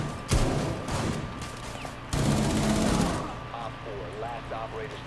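Loud shotgun blasts ring out in the Rainbow Six Siege video game, with a sharp shot near the start and another burst midway, over game sounds and brief chatter.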